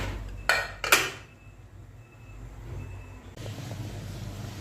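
A lid lands on a cooking pot of mackerel and tomato fish stew: two sharp, close metallic clanks in quick succession, then a low, steady kitchen hum with no talking.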